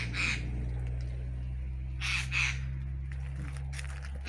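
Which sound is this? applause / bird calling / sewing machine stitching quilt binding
bird calling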